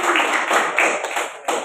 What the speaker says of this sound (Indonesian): kita beri aplaus untuk kelompok 5